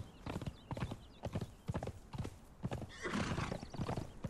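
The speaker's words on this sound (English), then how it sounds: "Just ride the undead horse." An undead horse in the game Conan Exiles trots with a brisk, rhythmic clip-clop of hooves, close and clear, then lets out a loud neigh near the end.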